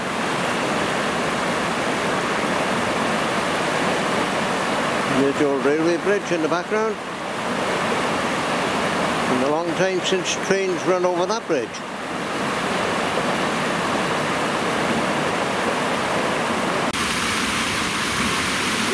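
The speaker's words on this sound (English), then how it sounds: "We have a noisy weir right by Brynmenyn railway station." Water rushing steadily over a river weir beside an old railway bridge near Brynmenyn, a loud continuous broadband roar that runs the whole time, with someone talking over it in two stretches.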